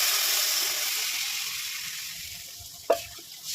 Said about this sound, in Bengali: মশলাটা কষানো হয়ে গেছে, তেল ছেড়ে দিয়েছে, আমি এবার জল দিয়ে দেবো